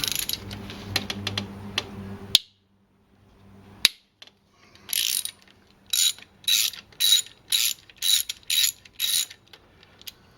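A ratchet loosens M6 hex bolts on the intake manifold of a Mercedes-Benz W202 C280, first in a rapid clicking run, then after a pause in a row of about eight distinct, evenly spaced ratcheting strokes, with no talking.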